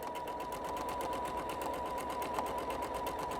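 Sewing machine stitching a seam on a strip skirt at a 3/8 inch allowance, a fast, even needle rattle that runs without a break, close and clear, with no talk.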